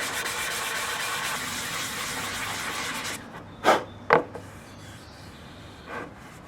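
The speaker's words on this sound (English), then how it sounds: "Never mind, back to sanding." A custom front fender for a GS550 cafe racer is hand-sanded with continuous close rasping strokes for about three seconds, then a few short separate swipes follow against quiet background.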